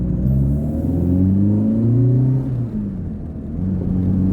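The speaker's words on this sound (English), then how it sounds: "Let's go for a little spin, see what this 900cc Trofeo engine is all about." A Fiat Cinquecento's 900cc Trofeo engine drones steadily while driving, its pitch rising and falling through gear changes, heard from inside with a constant low rumble.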